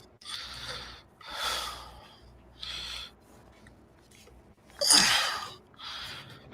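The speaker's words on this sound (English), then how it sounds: "Stop breathing so hard." Heavy breathing blown close into a microphone, a series of about five loud, rough breath bursts spaced a second or so apart, with no talking.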